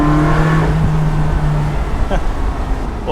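A 2002 Ferrari 360 Spyder engine heard from inside the cockpit, loud and close, revving with a rising tone that drops off at a gearshift, then a rougher, lower engine note follows.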